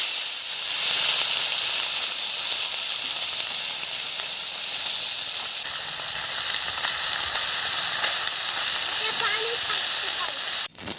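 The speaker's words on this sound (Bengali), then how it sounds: "তেল গরম হয়ে গেছে, মাছগুলো দিয়ে দিচ্ছি।" Katla fish pieces frying in hot oil give a steady, dense sizzle and hiss that runs unbroken for the whole stretch, fairly loud and close, with no talk over it.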